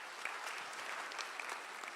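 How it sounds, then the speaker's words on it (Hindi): Brief burst of clapping from an audience at an indoor government workshop on livestock breed development in Lucknow, a dense, even patter of many hands at moderate distance with no voices over it. "उनके लिए ताली बजाइए।"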